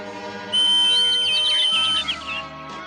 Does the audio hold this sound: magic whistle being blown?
yes